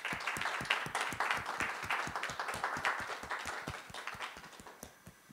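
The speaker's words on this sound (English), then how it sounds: "An applause for David." Applause from an audience welcoming a guest onstage at an evening event: many hands clapping steadily and close by, dense and sustained before tapering slightly at the end, with no talk.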